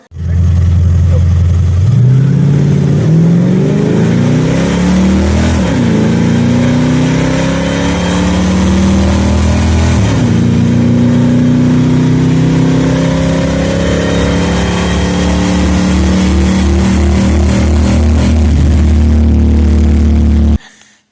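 A 1964 Ford Galaxie V8 with aluminum heads and factory EFI runs loudly up close, revving repeatedly as the pitch climbs and drops in several swells before it cuts off.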